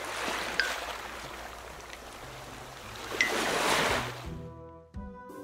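Ocean waves rush onto a beach in a broad, washing roar that builds and swells. Near the end it cuts off abruptly into soft musical tones.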